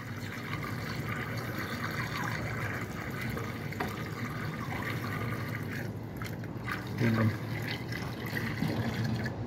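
Coolant pours into a Perkins 500 kVA generator during servicing as a steady liquid trickle and fill, with someone talking over it.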